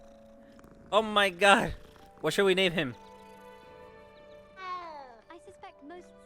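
A cat in the video game Hogwarts Legacy meows a few times after being petted, short pitched cries between stretches of close, excited talking, with a soft purring tone beneath.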